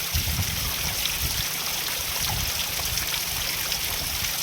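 Water runs steadily through a farm irrigation channel with a continuous trickling, bubbling flow close by, even and unbroken from start to finish.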